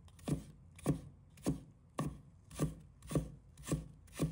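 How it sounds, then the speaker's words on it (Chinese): A kitchen knife slices ginger into fine strips on a board, giving seven steady, evenly spaced chopping strokes, close and crisp, with no talk. "再切成细丝"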